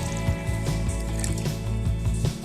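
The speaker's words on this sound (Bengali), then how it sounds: "এবার দিয়ে দিচ্ছি জল।" Water is poured over sago in a bowl to soak it, a short, close liquid splash and trickle with gurgling squishes, heard over a steady low humming background.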